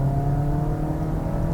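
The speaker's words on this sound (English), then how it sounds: "Of course, you're hearing the revs and all that" The 1.5 liter engine of a Mazda 2 hatchback holds a steady, throaty rev, a continuous drone heard from inside the car with no talk.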